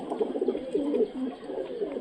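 Punjabi pigeons coo in soft, repeated low murmurs, close by with a steady rhythm.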